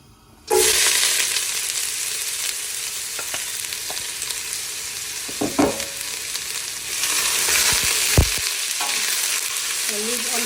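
Onions drop into hot oil in a pan and burst into a loud, sudden sizzle that continues steadily, with a few soft stirring knocks and no speech.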